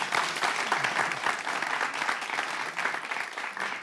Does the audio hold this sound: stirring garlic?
no